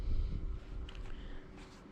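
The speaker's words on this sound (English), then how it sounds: "So it's very windy out." Low rumbling wind buffets the microphone, strongest at the start and then easing into a steady, muffled blustering.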